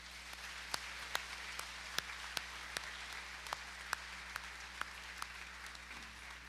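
At a college fall commencement ceremony, sparse, distinct claps ring out at an unhurried, irregular pace over a faint hum, sounding like a few people applauding in a large hall rather than a full audience.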